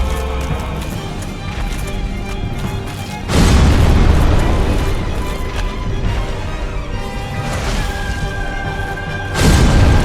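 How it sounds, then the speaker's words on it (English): Heavy ground-slamming booms from the Stray Demon boss in Dark Souls, loud deep impacts rising sharply around the middle and again near the end over a constant rumbling game background. "as he hits the ground, he's going to go big boom boom"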